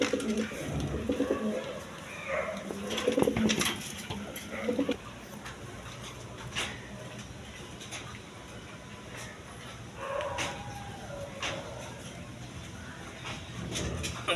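Kashmiri racer pigeons in a loft give soft, intermittent coos, fairly close, with some rustling and brief low vocal bursts scattered across the stretch.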